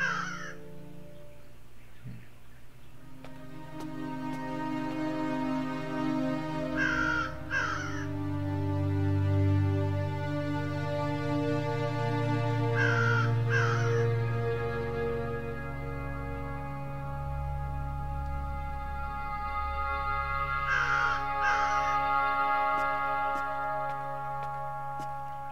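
A bird caws in a fantasy video game, three distinct double caws spaced several seconds apart over a steady droning game music bed with no talking.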